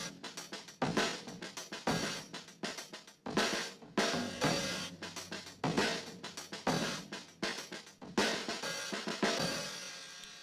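Old tape drum samples from WavesFactory, loaded in Kontakt, playing a loop. Punchy kick and snare hits with a dusty, lo-fi tone repeat in a steady groove at moderate volume, with no voice over it.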